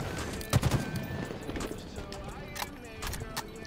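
Video-game gunfire crackles in quick bursts, with sharp clustered shots near the start and scattered reports later, set against noisy background sound.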